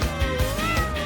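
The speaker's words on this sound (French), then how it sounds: "Oh, j'entends ronronner. Qu'est-ce que c'est que ça? Vous avez un chat." A domestic cat meows loudly and close by, a drawn-out tonal call with a few rising and falling inflections, heard alone.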